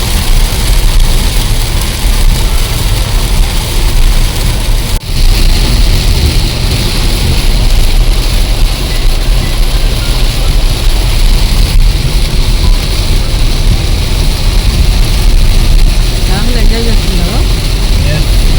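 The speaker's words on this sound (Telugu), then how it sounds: "పెద్ద వర్షంలో డ్రైవింగ్" A car drives through heavy rain, with a dense, steady roar of rain and road noise that stays loud and unbroken throughout.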